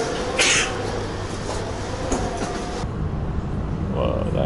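Steady rumble of a train ride near Paris with rattling carriage noise throughout, a few brief hiss-like bursts over the top.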